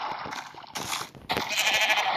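Sheep bleat in a crafting survival video game, two or three short nasal cries in quick succession, close and clear with no talk over them.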